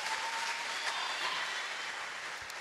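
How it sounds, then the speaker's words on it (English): A church congregation claps, a dense, continuous roar of many hands heard fairly loud and uniform throughout, with no voices standing out. "Shall we clap for Jesus?"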